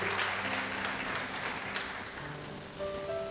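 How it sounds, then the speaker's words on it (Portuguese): Congregation applauding during a church service, a steady patter of many hands at moderate distance with sustained background tones, fairly soft and without clear talk. "Quem pode aplaudir o Senhor?"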